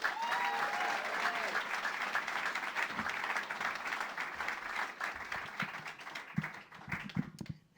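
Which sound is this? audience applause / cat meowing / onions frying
audience applause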